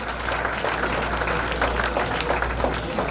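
A school audience at a government scholarship function for 12th-class toppers gives dense, continuous applause, steady and loud throughout.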